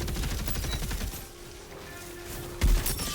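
A video game gun fires in a rapid, rhythmic stream of sharp shots that fades into background game ambience before one heavier impact near the end.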